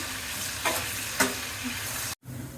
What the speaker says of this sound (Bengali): এলাচি, এটা আমি একটু ভালো করে রান্না করে নিই।